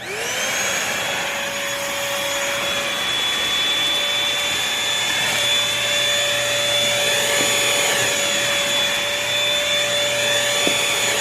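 A Bissell 3-in-1 lightweight stick vacuum runs continuously on stairs with a loud, steady motor whine that holds its pitch for over ten seconds, with no talking.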